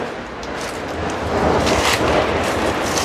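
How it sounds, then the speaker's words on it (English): A whole string of firecrackers being let off somewhere in Thailand, a dense crackling rattle of rapid bangs that swells louder midway, heard at some distance with no talking. "Someone's letting off a whole lot of crackers."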